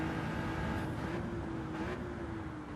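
Nissan GT-R engine droning steadily at high revs while racing around Trial Mountain in a video game, a continuous tonal hum with slight pitch shifts, moderately loud and without talk.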